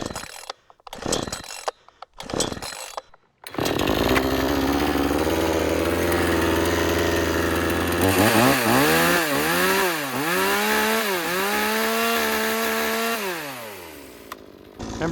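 A bargain 2-stroke chainsaw runs on fast idle after choking, its buzzing engine loud and close, rising and falling in pitch with a few revving swells before easing down.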